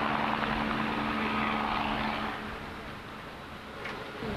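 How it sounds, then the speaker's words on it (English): A helicopter on a sightseeing flight over Mount Rushmore drones loudly and steadily with a low rotor throb and engine whine, easing slightly toward the end. "You can't hear me too well over the helicopter."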